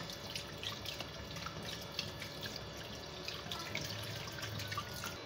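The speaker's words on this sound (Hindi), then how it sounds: "अब इसमें पानी डाल देंगे" Water poured into a pot of soaking rice for chicken fried rice, a steady soft splashing and trickling that runs evenly throughout, fairly faint with no voices.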